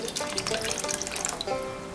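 Water pours steadily onto hydrogel beads at home, a close, continuous splashing trickle lasting a couple of seconds with no voices.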